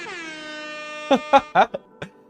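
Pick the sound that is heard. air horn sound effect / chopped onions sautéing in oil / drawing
air horn sound effect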